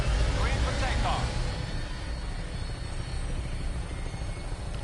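A vertibird aircraft lifts off in Fallout 4, a loud, steady broadband rotor and engine roar holding throughout, with a brief whirring swell early on before settling into a constant drone.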